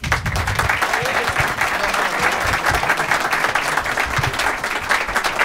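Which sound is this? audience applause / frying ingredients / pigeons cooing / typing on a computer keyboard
audience applause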